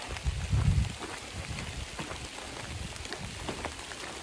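Heavy rain pouring down on a hiking trail, a dense, steady hiss of drops striking the ground and nearby surfaces, with a low thump early on and no voices.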